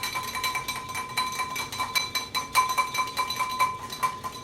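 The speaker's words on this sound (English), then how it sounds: "So if you do too much oil, just give it a minute, just whisk it really hard." A whisk beats hard and fast against a bowl, making a rapid run of light metallic clicks as an oily, emulsified sauce is worked together.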